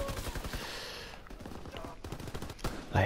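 Fireworks of rockets and Kanonenschlag firecrackers go off in rapid sharp cracks and bangs, dense at first and then scattered, with a faint voice underneath.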